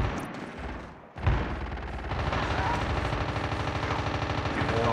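Rapid automatic AK rifle fire in the mobile shooter Call of Duty Mobile, sustained bursts running loud and close for most of the stretch after a brief dip, with faint voices in the background.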